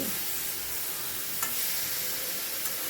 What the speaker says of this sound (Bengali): ঝিঙেটা আমার বেশ ভাজা ভাজা মতো হয়ে যাচ্ছে